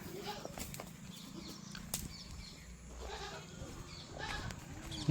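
Goats bleat near a rural house, a few wavering calls over a background of low voices and outdoor movement, with a brief flutter of bird wings.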